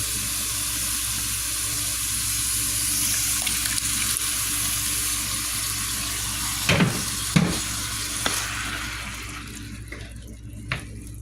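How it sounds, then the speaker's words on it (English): Italian seasoned canned tomatoes go into a hot pot, a steady sizzling hiss broken by a few clunks and a short wet pour before the frying quiets, no voices. "I'm going to add a can of tomatoes."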